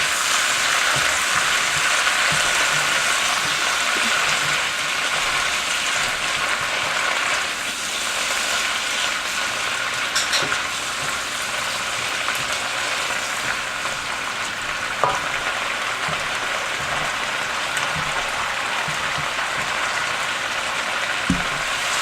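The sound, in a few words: zucchini cooking in a pan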